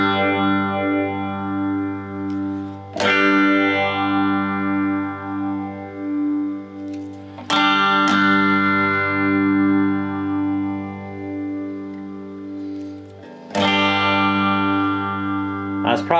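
Electric guitar runs through an Ibanez PH7 phaser pedal, three strummed chords ringing out at roughly five-second intervals, each swirling with a sweeping phase effect as it sustains and decays.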